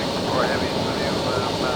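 Concorde airliner engines roaring steadily on final approach to landing, a loud continuous broadband rush with a faint rising whine, heard from inside during the descent.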